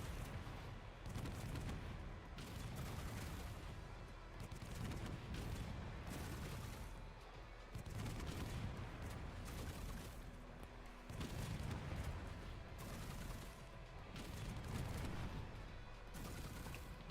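Dense, continuous bursts of rapid machine gun fire in the game Girls' Frontline, loud and relentless with booming impacts, pulsing in waves across the whole stretch.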